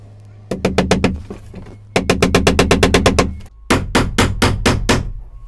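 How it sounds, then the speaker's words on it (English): A small pin nail is tapped into the groove of a floorboard while insulating a summerhouse: three quick runs of sharp, loud hammer taps, each a rapid steady series of close strikes, with no talking. "we can actually put a little pin nail just inside that groove, tap it in"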